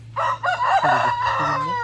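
A rooster in a chicken breeding setup crows one full, loud, close cock-a-doodle-doo lasting nearly two seconds, with a faint low hum underneath.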